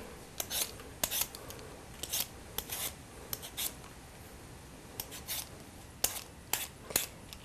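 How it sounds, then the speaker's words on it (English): Repeated short scraping strokes of a peeler across a raw potato, crisp bursts in uneven clusters with brief pauses between, close and alone. "So what I'm gonna do is peel a potato."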